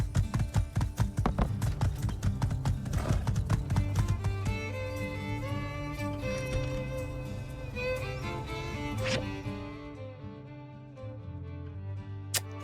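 Horse hooves clip-clop in the video game My Time at Sandrock, a quick run of rhythmic hoofbeats at the start that fades into layered game music and sustained tones, with no speech.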